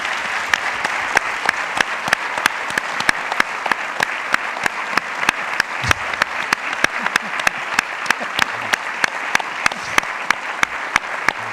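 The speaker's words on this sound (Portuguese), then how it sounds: "Uma salva de palmas para o nosso convidado." An audience at a literary talk applauds a guest with loud, sustained clapping that runs steadily throughout, with sharp, closely spaced claps and no speech over it.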